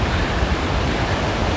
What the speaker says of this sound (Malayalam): ഇവിടെ നമുക്ക് ആ പുഴ കാണാൻ പറ്റുമെന്ന് തോന്നുന്നു, നല്ല സൗണ്ട് കേൾക്കാം.